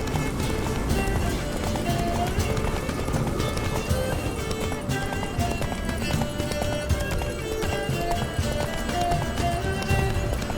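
A horse gallops with fast, rhythmic hoofbeats inside The Witcher III: Wild Hunt, loud and continuous throughout, mixed with game sound effects and a faint whinny.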